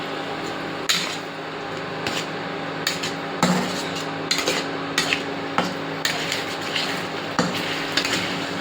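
Butter going into a hot pan for paneer butter masala, with a steady sizzle under repeated clinks and scrapes of a spoon stirring against the metal, close and fairly loud.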